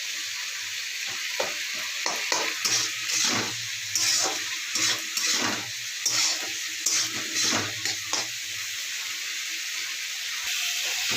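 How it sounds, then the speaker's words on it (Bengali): Green peas and ginger-garlic paste sizzle in a wok under a steady frying hiss, with repeated scraping strokes of a spatula stirring them at an uneven rhythm. "আদা রসুন বাটা দিয়ে কড়াইশুঁটি দিয়ে নাড়ছি।"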